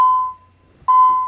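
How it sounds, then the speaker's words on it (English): Two electronic confirmation beeps from a Lyric security controller as it finishes pairing: a clear, steady tone, a short pause, then a second one, close and loud with no talking. "We have a confirmation beeps."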